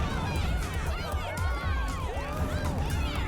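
A crowd of voices cheers in the video game Danganronpa Ultra Despair Girls: a dense, continuous wash of overlapping whoops and rising and falling shouts held at a steady level for the whole stretch.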